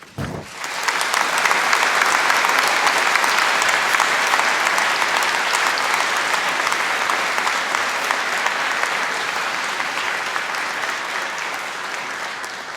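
Graduation audience at a Strathclyde Business School ceremony applauding its graduates, a dense, loud sustained wave of clapping that rises quickly and holds steady for the whole stretch with no speech over it.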